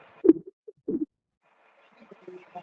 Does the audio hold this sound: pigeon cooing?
yes